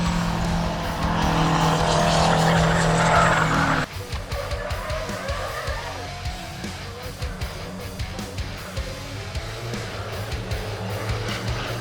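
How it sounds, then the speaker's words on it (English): Racing trucks roar around the track at the Giti Super Truck Nationals. Loud engine noise and tire sounds are heard close by, then a steadier, more distant rumble of the trucks continues. "Butwell went for it again at turn 10, forcing his way into second place"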